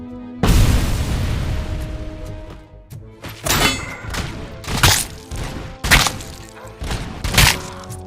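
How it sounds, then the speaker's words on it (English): Grenade explosions in the shooter Robocop Rogue City: one heavy, booming blast followed by several more loud detonations in uneven succession, each a sharp thud with a ringing tail. "they're throwing grenades."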